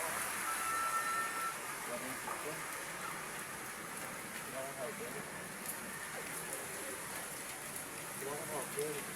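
Heavy rain pours down in a steady, dense wash of noise during a downpour that has brought flooding, with faint voices in the background.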